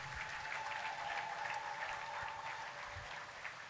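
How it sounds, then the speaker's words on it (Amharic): A church congregation at an Easter service claps together in dense, sustained applause that runs evenly through the whole stretch, a reverberant crowd sound with a faint steady tone underneath and no clear voices. "አጨብጭቡ ለጌታ ክብር"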